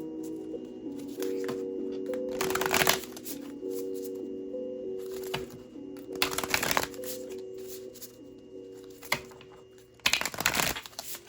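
Tarot cards riffled and shuffled in three sharp bursts spaced several seconds apart, close by over a faint steady hum, with no talk.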